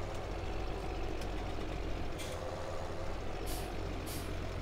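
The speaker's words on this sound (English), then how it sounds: "I like the sound of this tractor." A tractor engine in the video game Farming Simulator 17 drones steadily throughout, a low continuous rumble with faint higher hiss bursts and no talking.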